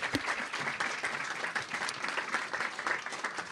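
An audience at a talk on Bruce Lee applauds warmly for a few seconds, a dense, even patter of many clapping hands at moderate volume with no voices over it.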